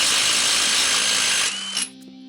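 A power tool fitted with a 3/4 inch socket spins off brake bolts during a rear brake hose and wheel cylinder job, a loud close whirring burst that winds down and stops within about two seconds.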